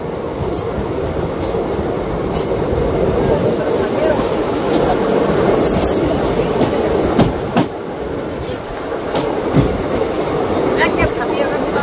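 Local train rolling into Boko station, heard from on board: a loud continuous rumble of wheels with clattering rail joints and sharp metallic clicks, with voices in the background.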